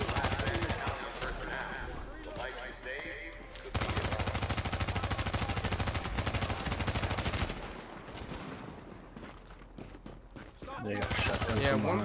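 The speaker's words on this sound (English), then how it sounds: "Yeah, shotgun." Gunfire rattles through a fight in the video game The Division, shotgun blasts mixed with rapid automatic bursts. The shots come in dense, loud clusters with short pauses, and voices are heard in between.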